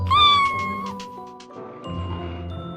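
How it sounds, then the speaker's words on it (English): A cat gives a clear, close rising-and-falling meow, followed by a brief chime-like ding tone and softer trailing sounds, with no talk. "C is for cat."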